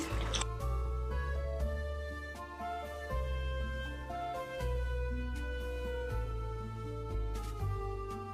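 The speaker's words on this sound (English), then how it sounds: "So we're going to wash our hands." Water runs and drips close by with wet squishing and splashing, like hands being rinsed under a tap, steady over several seconds.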